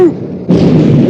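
A warship's big guns open fire on the Bismarck in a video game: a sudden deep boom erupts and rolls on as a heavy sustained rumble, loud and close.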